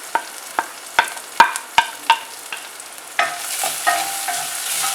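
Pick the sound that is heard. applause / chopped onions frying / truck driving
chopped onions frying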